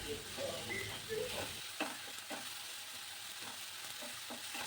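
Onion paste and green chilli paste fry with mutton liver in a pan, a quiet sizzle broken by several soft stirring scrapes, close up with no talking.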